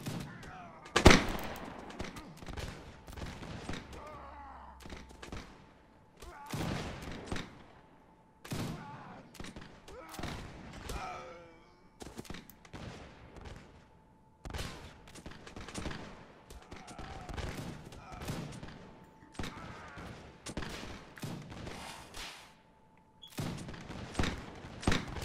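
Rifle volleys from soldiers in the Napoleonic-era game Mount & Blade, L'aigle: repeated sharp cracks in scattered bursts and ragged volleys across the field, some near and some distant, with a faint steady tone underneath.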